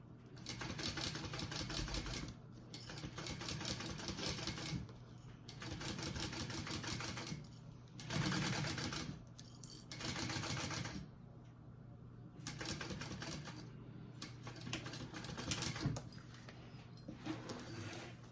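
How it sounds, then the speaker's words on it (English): A sewing machine stitches a Lady Dior-inspired bag, running close and steady in about seven bursts of rapid mechanical whirring separated by brief pauses. "go ahead and sew that on"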